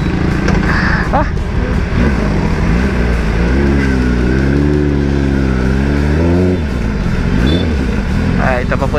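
A Kawasaki ZX10R fitted with an M4 muffler revs loudly up close, its exhaust note climbing and falling in smooth sweeps over continuous riding engine noise, with wind rushing past.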